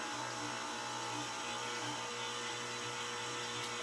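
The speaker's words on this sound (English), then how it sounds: "I've got my dough hook attachment that is going to go onto my stand mixer and help me knead this dough together" A stand mixer fitted with a dough hook churns homemade dinner roll dough, giving off a steady, close motor whir with a low rhythmic thumping that runs without a break.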